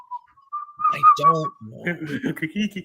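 A person whistles a thin steady tone near the start, a brief rising whistle before talk begins, then speech takes over with faint whistling mixed underneath.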